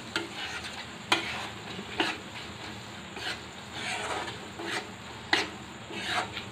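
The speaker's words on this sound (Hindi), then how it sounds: "अब हम इसमें ऐड करते हैं लगभग 1 कटोरी के आसपास मटर के दाने और इसको मिक्स करते हैं" A spoon stirs green peas into mushroom gravy in a pan for a restaurant-style matar mushroom dish, with soft wet scraping strokes and a few sharper knocks against the pan over a low simmering hiss.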